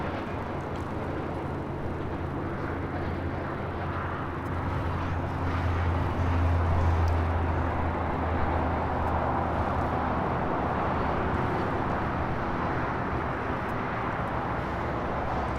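An airliner takes off from runway 25 right at LAX: a broad, low jet roar that holds steady and swells slightly in the middle, heard at a moderate distance over the whole stretch.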